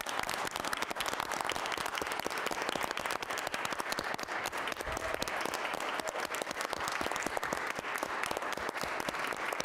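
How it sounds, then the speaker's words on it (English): Applause for Milwaukee's Cristo Rey Jesuit High School soccer team, the WIAA Division 4 state champions, at a morning gathering: a crowd clapping steadily, crisp individual claps dense and rapid across the whole stretch, with no talking. "Let's give them a round of applause."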